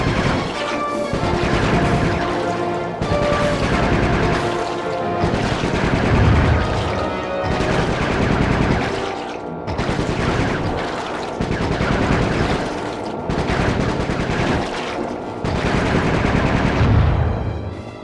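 Bentley opens fire in the Sly Cooper video game, a long run of loud, dense gunshots and crashing impacts in repeated bursts with short gaps between them, sustained for many seconds.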